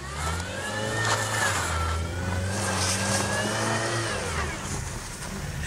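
Car engine revving hard while doing doughnuts in the snow, a close mid-pitched engine note that rises and falls in long sweeps as the wheels spin, sustained and loud throughout.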